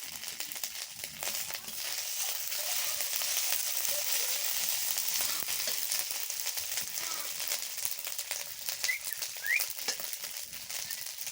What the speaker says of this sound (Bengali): আদাটা আমি হালকা ভেজে নিব